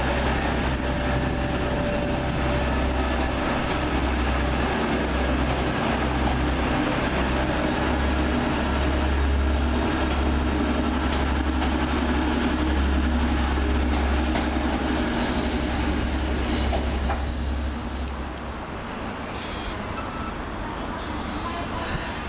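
A TransPennine Express Class 185 diesel unit at Huddersfield station rumbles steadily close by as it gets ready to leave, with a deep, continuous drone and a few clicks and squeals before the sound drops away near the end.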